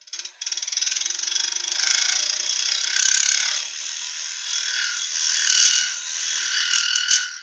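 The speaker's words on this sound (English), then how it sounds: "I'm just putting a wee chamfer on this, going into the out from the center or that way" A wood lathe spins a wooden workpiece while a chamfer is cut into its edge, giving a steady, close scraping and whirring that runs almost the whole time, rising and dipping slightly as the tool moves.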